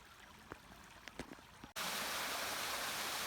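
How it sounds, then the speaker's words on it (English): A waterfall in the Temagami wilderness, a loud steady broadband rush of falling water that cuts in abruptly after a quieter stretch of faint stream trickling and a few small knocks. "When I saw this waterfall, after coming down this with the canoe, I was like, I'm getting in there somehow."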